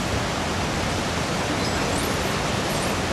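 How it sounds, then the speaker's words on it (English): Waterfall at Rivendell in the PS3 game Lego Lord of the Rings, a dense, even roaring hiss of falling water, constant and close with no voices. "Behind the waterfall here."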